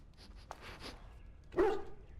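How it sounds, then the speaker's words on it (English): A single dog barks happily in Dragon Age Origins, a brief, fairly close bark over quiet background, preceded by a few faint softer sounds. "He barks happily, wagging his tail."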